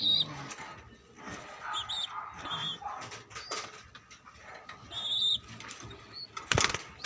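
Black pigeons of the same size flap their wings in short bursts close by, with soft flutters repeating through the stretch and a louder burst near the end, set among background bird and animal noise.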